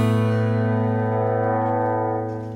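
Acoustic guitar with the mid-range cut on the EQ, a single sustained strummed chord ringing close and steady, then slowly fading toward the end, with no talking.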